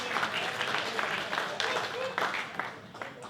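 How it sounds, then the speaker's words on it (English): Comedy club audience at a brewery venue applauds and claps steadily for a few seconds, a dense wash of hand claps with occasional louder bursts and a few voices mixed in. "You've got to give her a round of applause for that."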